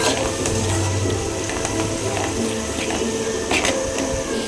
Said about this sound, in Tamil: அவரைக்காய் நல்லா வதங்கட்டும்.